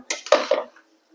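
A spoon stirs ghee rice mixed with fried onions in a pot, a brief burst of metallic scraping and clinking close up, then silence.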